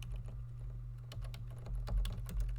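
Steady, fairly close typing on a computer keyboard while writing MATLAB code, an irregular run of quick key clicks with a few louder strikes over a low constant hum.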